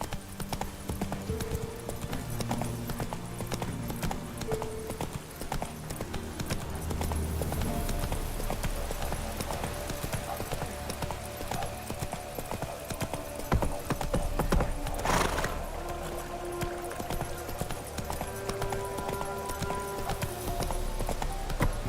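Roach the horse trots in The Witcher 3, a steady clip-clop of hooves running throughout under game ambience, with a brief whinny and faint mechanical sounds partway through.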